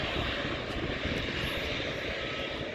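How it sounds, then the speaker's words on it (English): A British Airways plane coming in to land at London City Airport on a stormy evening, its engines a loud, steady roar that fills the whole stretch with no talking. "British Airways landing at 21:10. London City Airport"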